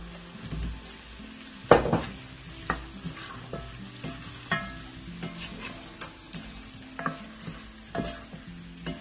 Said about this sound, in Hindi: अच्छी तरीके से मसाले में मिक्स करें इस आलू को।